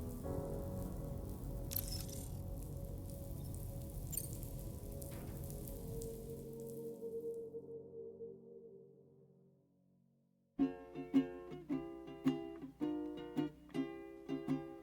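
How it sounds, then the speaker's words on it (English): Steady rain hiss in Death Stranding 2 fades away over several seconds into near silence, then sharp percussive music-like hits take over. "Raindrops are falling on my head"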